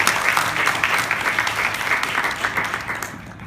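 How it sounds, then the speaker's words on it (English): Applause from the audience at a Rutgers EMBA Singapore valedictorian graduation address: a brief, steady round of many hands clapping at moderate volume, fading slightly at the end, with no talking. "let's give Damien a round of applause for his all hard"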